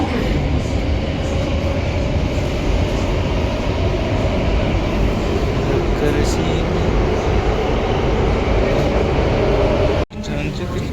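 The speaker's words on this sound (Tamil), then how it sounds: "ட்ரெயின் வந்துருச்சு." A Singapore metro train arriving at Jalan Besar station, a loud, steady rumble of rolling wheels and motors filling the platform throughout, ending in an abrupt drop near the close, with speech faintly mixed in.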